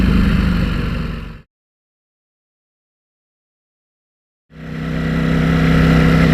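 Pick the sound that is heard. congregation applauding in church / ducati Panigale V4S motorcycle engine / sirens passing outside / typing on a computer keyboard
ducati Panigale V4S motorcycle engine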